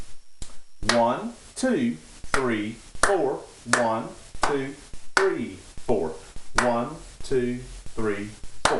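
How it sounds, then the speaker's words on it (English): Hands clap a steady four-beat rhythm, each sharp clap landing on a counted beat, while a voice counts aloud along with the claps in a quiet room. "So when I clap this rhythm, it's going to sound like this."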